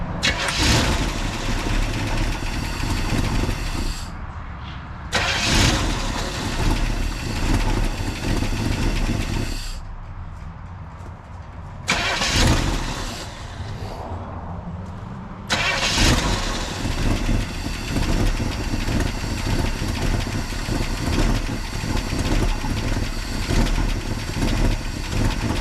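A 1965 Chevy C10 pickup engine cranks and catches several times, with short gaps between attempts, then settles into a steady, loud idle close by.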